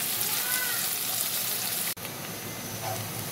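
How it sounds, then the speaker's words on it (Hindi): Onions frying in oil in a pan, a steady broadband sizzle and crackle throughout, close and even, with one brief dropout near the middle and no talking. "प्याज ब्राउन होने तक मैं इसको भुनाई करूँगी"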